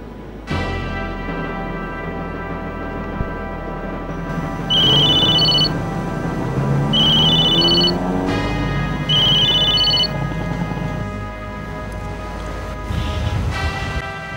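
A telephone rings in three electronic bursts with pauses between, over a music background.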